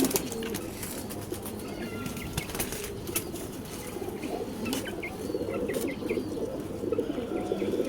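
In a pigeon loft with a newly bought female pigeon, soft coos and bursts of flapping wings sound close by, with scattered chirps over a low, continuous murmur of birds.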